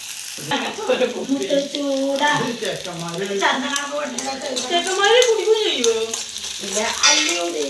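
Onions sizzle and crackle in a hot pan while a voice talks over the frying throughout, with the hiss staying steady and close.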